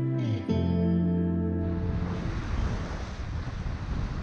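Strong gusty wind of about 20 knots roars over a Hallberg-Rassy 54 sailboat crossing from St. Martin to Anguilla, a steady loud rush buffeting the microphone with water noise beneath, after a brief tonal hum fades at the start.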